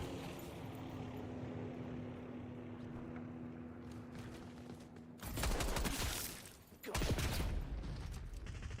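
Bursts of gunfire from a weapon in Black Ops 6 hardcore mode, two loud sustained volleys in quick succession after a stretch of low rumbling background noise.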